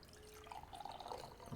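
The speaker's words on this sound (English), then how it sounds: "I'm going to pour myself a cup just through the sieve here" Turmeric tea pours through a sieve into a cup, a faint trickle and drip of liquid that builds slightly toward the end, with no talking.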